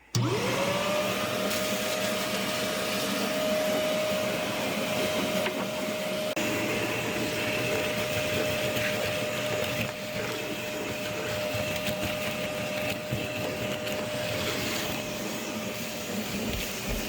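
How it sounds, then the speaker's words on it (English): A vacuum cleaner whirs up to speed and keeps running steadily nearby during cleanup of brick-wall demolition dust, a constant loud drone with a high whine, no talking. "I'm gonna use the vacuum cleaner, tidy it up first"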